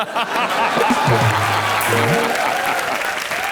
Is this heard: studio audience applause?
yes